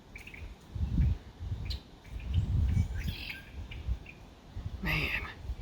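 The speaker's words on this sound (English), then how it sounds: "all these blackbirds flew in" Scattered blackbird chirps and calls over a low rumbling background, with a louder burst of calls near the end, at a bear-hunting site in Manitoba.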